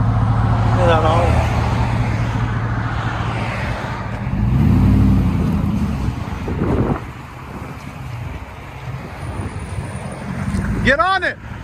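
A Chevy Avalanche 5.3L V8 idles with a loud aftermarket exhaust, a steady low rumble up close with a brief blip partway through, while people talk over it.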